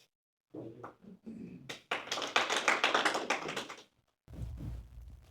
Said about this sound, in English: clapping shouldn't be allowed as part of the dialogue here